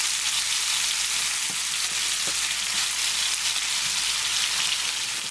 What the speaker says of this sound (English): next we're going to go ahead and add our ground beef. We want to cook this down now